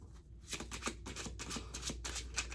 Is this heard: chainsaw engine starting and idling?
no